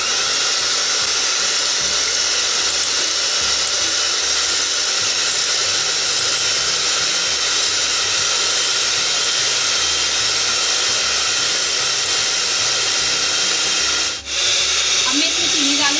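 An electric hand beater whips egg whites at low speed, giving a steady, loud high-pitched whir that runs unbroken for the whole stretch except for a brief dip near the end.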